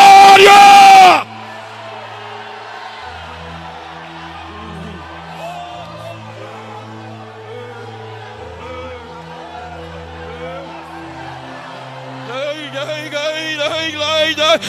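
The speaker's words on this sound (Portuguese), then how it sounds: "Deixa eu ouvir o grito de glória!" A church congregation lets out a loud shouted cry of glory at the very start, a brief roaring burst of many voices that cuts off after a second, then gives way to sustained music and singing.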